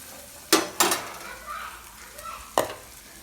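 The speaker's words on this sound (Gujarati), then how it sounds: "હવે આપણે એને સરખી રીતના હલાવી નાખ્યા" Vegetables being stirred in a hot frying pan, a low sizzle broken by three sharp utensil clanks against the pan, close by with no talking.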